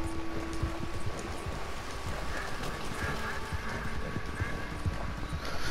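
Horse hooves clip-clopping in Red Dead Redemption 2, a steady close rhythm of hoofbeats with occasional soft snorts over a constant background bed.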